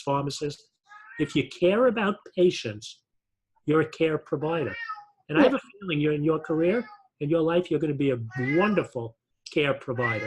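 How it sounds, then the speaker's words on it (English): A pet cat named Oscar meows in the background while someone speaks steadily in the foreground, the cries mostly buried beneath her voice. "I can hear it meowing"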